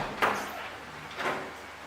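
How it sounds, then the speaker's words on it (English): Door being closed and locked: two short, sharp knocks or clunks about a second apart, close and moderately loud over a quiet background. "Lock the door."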